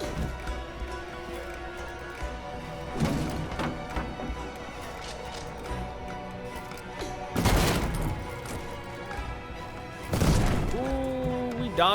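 Gunfire in the Detroit: Become Human video game during a home fight: several sharp, loud shots and bursts break out at intervals over a busy game soundtrack, with people talking between them.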